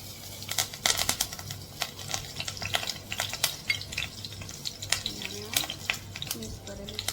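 Asafoetida and curry leaves hit hot oil in a pan, giving a crackling, spitting sizzle of dense pops and clicks that runs steadily while a voice briefly speaks.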